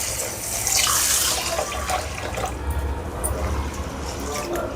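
Tap water running steadily into a vessel as raw rice and fenugreek seeds are washed in a kitchen, a close, continuous splashing rush with slight variations as the grains are stirred.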